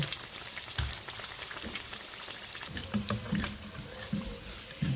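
Egg rolls sizzle and crackle in hot frying oil after being flipped, a dense, steady fizz with scattered pops and spatters, close and continuous with no talk.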